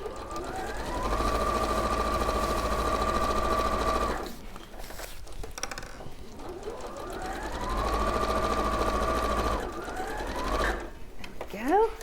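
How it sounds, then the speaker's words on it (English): A sewing machine stitching fabric in a spring sheep sewing project, running in two sustained bursts with a steady whirring hum and a short pause between them, close and fairly loud. "Quite a change for me to do real sewing."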